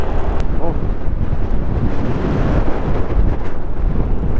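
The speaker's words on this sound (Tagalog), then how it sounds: "ang lakas ng hangin" Strong gusting wind buffets the microphone of a motorcycle on a mountain loop ride, a loud, low, continuous roar that throbs unevenly throughout with no clear engine note above it.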